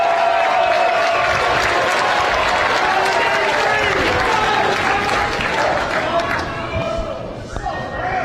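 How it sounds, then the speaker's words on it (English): A crowd at a cornhole world championship breaks into loud, sustained applause and cheering that fades slightly toward the end, with commentators talking over it. "We're starting to hear the crowd really."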